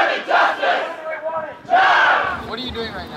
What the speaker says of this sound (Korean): 인근 도심에서는 또 다른 아이들의 목소리가 울려 퍼집니다.